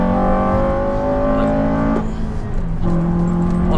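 A Honda Civic Type R FN2 with a limited-slip differential revs hard on an open road, its engine note climbing steadily, dipping briefly as a gear changes, then rising again, loud and close throughout.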